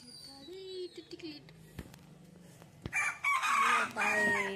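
Chickens clucking and a rooster crowing loudly near the end, with softer bird calls and some talk earlier.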